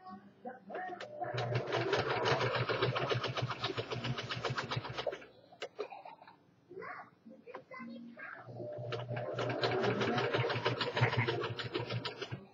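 Sewing machine stitching around the leg of a baby doll in two long bursts of steady rapid whirring, with a short pause of quieter handling sounds between.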